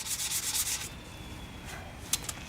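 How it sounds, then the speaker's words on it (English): Rust being sanded off the brake drums of a 1946 Ford gives quiet, rhythmic scraping strokes, about five quick rubs close together, then a pause and a couple of fainter passes. "Sanding the rust in the drums."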